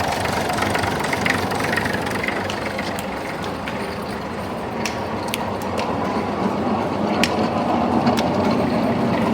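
Tractor engine idling on a winching day, a steady loud rumbling drone with mechanical rattles and a few faint clicks on top, continuous and close throughout.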